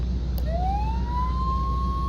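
A fire truck siren in an ambulance simulator game switches on with a rising wail that settles into a steady high tone over a constant low engine rumble, with no talking.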